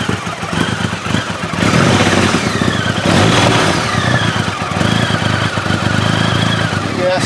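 Motorcycle engine on a dyno, idling roughly and stuttering, with an uneven loud throb that surges and dips throughout, no clear speech.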